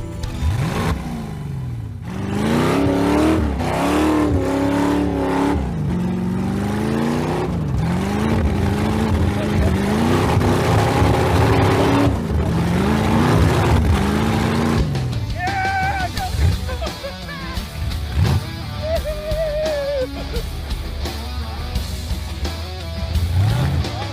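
A lightweight Baja Bug-style car climbing a rocky hill, its engine loud and close, revving and straining continuously with shifting pitch, with voices talking now and then.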